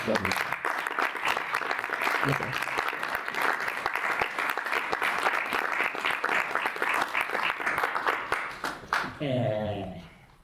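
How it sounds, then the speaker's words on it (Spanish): Sustained applause from an audience at a manga convention talk, many hands clapping steadily for several seconds before fading out near the end. "lo primero que os pediría es un fuertísimo aplauso para él"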